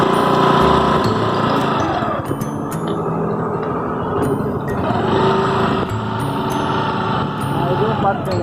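A scooter engine hums steadily and close while a beginner rides, with a high whine that rises and falls as the throttle changes. A person talks over it now and then.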